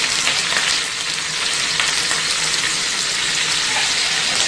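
Karonda berries and green chillies hit hot oil seasoned with hing, giving a loud, steady, bright sizzle that crackles continuously with no voices over it.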